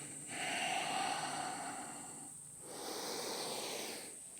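Slow deep breaths in and out during kneeling spinal waves, two long airy exhales, close and soft with no talk.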